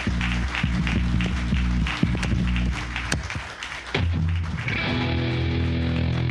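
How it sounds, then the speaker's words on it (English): A live audience gives applause with scattered claps at a podcast festival stage appearance as the hosts walk out, under a loud music bed, then shifts into a steadier musical passage. "let's bring them out to a warm round of applause"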